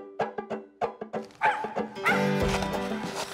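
A hunting dog out on a squirrel hunt barks and yips excitedly in quick bursts close by, the calls crowding together and growing louder and more continuous toward the end.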